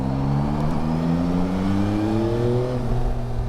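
A Yamaha Tracer 9 GT motorcycle engine hums loudly and steadily during a ride on a slippery surface, with a smooth, rising whine as the rider tests the rear brake. No one speaks.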